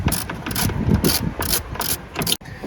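Ratchet clicking as it backs a Torx bolt out of a 2007-09 Toyota Tundra taillight, with rapid bursts of pawl ticks in repeated strokes, close and loud, and one brief pause near the end.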